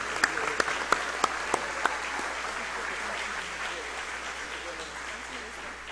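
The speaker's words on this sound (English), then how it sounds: "Please join me in giving our new 44 citizens a big round of applause." An audience applauding 44 new citizens at a state of the nation address, a few sharp nearby claps at first, then a broad, fairly distant round of clapping that fades slightly toward the end.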